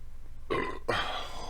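Two quick tortoise burps in a row, the second slightly longer, sounding in a quiet room.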